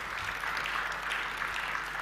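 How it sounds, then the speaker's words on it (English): Steady audience applause at a festival main stage talk, a continuous wash of clapping at moderate level with no clear voices over it throughout. "Please give him an applause."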